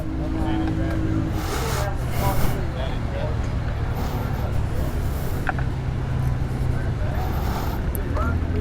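A KTM 890 Adventure motorcycle, set to low saddle mode, hums steadily while being ridden on a demo at the Circuit of the Americas in Texas, with a constant engine drone and wind noise throughout.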